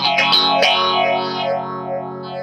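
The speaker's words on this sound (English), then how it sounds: "the pickups are out of phase" Fender Mustang electric guitar with its pickups wired out of phase, run through fuzz and modulation effects: a thin, heavily processed chord with a few quick strums early on, then a swirling, sustained wash that rings on loudly and alone.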